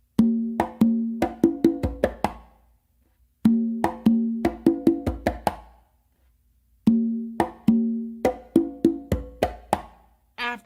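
Repeating hand-drum tumbao groove on congas: open tones and slaps in three bursts with brief pauses between them, close and clear, no talking.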